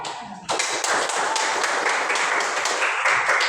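A classroom of pupils claps their hands together in a sustained round of rapid, dense applause that starts abruptly and continues steadily at close range.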